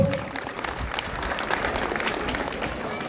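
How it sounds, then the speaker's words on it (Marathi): Loud, sustained clapping from an audience at a Pune home-minister style games event, a dense steady applause filling the whole stretch with faint crowd murmur. "एकदा जोरदार टाळ्या वाजवा या ग्रुपसाठी"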